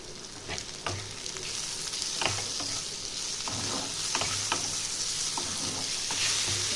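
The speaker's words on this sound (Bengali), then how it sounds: "এটা একটু নাড়াচাড়া করতে হবে।" Sliced bitter gourd and eggplant fry in a pan for a Bengali-style jhal as chili powder is stirred in, with a spoon scraping at an uneven rhythm over a steady close sizzle and no talking.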